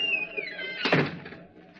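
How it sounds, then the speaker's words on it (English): A door shut as a radio drama sound effect: a single solid thunk near the middle, loud and close, over a faint musical tone that fades out beforehand. "Shut the door behind you."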